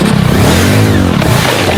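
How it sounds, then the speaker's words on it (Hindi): A motorcycle engine revs loudly and close by, its pitch climbing and falling through a couple of throttle blips with no talking over it. "ये बाइक तो चला लेगी ना ये?"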